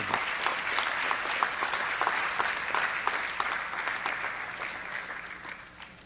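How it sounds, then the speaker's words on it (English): Audience applause at a high school fall sports awards ceremony, a steady dense wash of many hands clapping that stays fairly even and tapers slightly toward the end. "if you could just applaud for him here in just a second"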